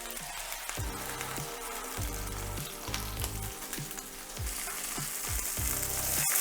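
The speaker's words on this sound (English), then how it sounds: "is just to brown them on the outside" Braciole brown in a pan over medium heat, giving a continuous close sizzle with a regular pattern of low knocks and scrapes as the pieces are moved.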